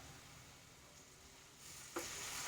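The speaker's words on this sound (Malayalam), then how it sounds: "നമുക്കിനി കുറച്ച് സുർക്ക കൊണ്ട് ഒഴിച്ചു കൊടുക്കാട്ടോ" Vinegar poured into beef frying for restaurant-style beef kondattam, a steady close sizzle with a brief splash and louder hiss near the end, no talking.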